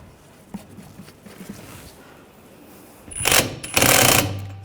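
A nut being run onto a front strut mount on a 2009-2017 Volkswagen Tiguan, heard as quiet clicks and then two loud, sustained bursts of a power tool near the end.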